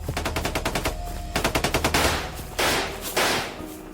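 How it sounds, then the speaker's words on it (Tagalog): A rapid burst of machine-gun fire is heard, loud and close. Fast rattling volleys are followed by a few heavier, echoing blasts that fade out. "Dahil sa sunod-sunod na mga putok ng baril ay nabulabog ang baryo"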